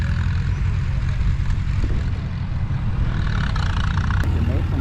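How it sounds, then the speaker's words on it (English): A heavy tractor engine rumbles steadily at close range as it pulls a road grader at a gas engine and tractor show, low and droning, with voices talking faintly underneath. "Tractor pulling a grader."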